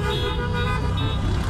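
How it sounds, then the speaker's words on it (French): Car horns honking continuously during a street celebration, a dense sustained blare of several horns over steady traffic noise, loud and close throughout. "Pourquoi est-ce que vous klaxonnez ?"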